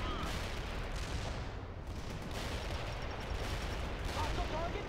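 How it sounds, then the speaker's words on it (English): Continuous gunfire and artillery from the World in Conflict strategy game roar loud and steady throughout, a thick wall of shots and blasts with faint voice callouts buried in the mix. "Incoming fire!"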